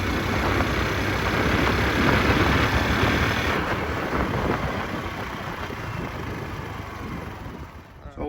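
A 2020 Honda Super Cub motorcycle engine runs steadily under acceleration in third gear, a continuous low broadband drone with wind rush, loud throughout and easing slightly toward the end.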